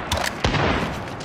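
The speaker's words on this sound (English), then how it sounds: "Blasting Claymore." A claymore mine blasts in a first-person shooter game, one sharp boom with a short rumbling tail amid scattered gunfire crackle, loud and close.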